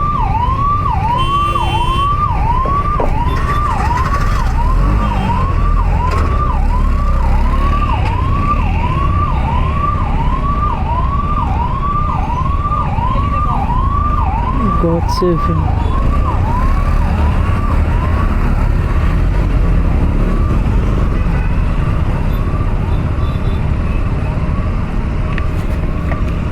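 An ambulance siren wails in a steady repeating yelp at night in Guwahati traffic, loud and close, with motorcycle and road noise beneath and a brief spoken remark.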